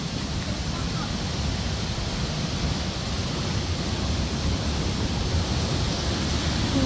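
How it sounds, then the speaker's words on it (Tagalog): A waterfall roars as a steady, dense broadband rush of falling water, constant and fairly close for the whole stretch, with no other sounds standing out. "Wow, ang ganda ng falls."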